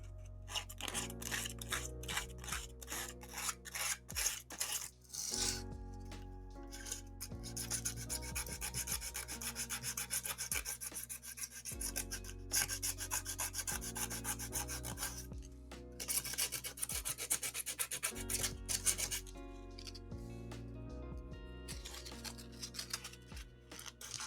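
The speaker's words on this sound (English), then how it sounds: "I need some sanding sponges or something" A hobby model piece is sanded by hand in close, rhythmic back-and-forth rasping strokes that continue for over twenty seconds with only brief pauses and no talking.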